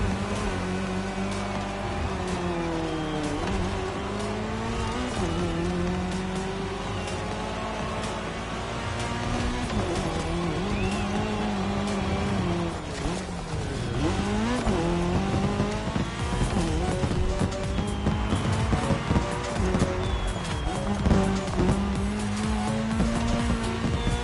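Race cars in The Crew Motorfest roar steadily on tarmac during a cross-terrain race, several engine notes rising and falling continuously with brief tire squeal, loud throughout with no talking.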